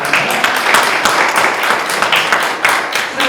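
Audience applause welcoming award-winning team Phoenix at a Daejeon–Chungcheong public institutions job idea-thon award ceremony, steady dense clapping throughout with no speech over it.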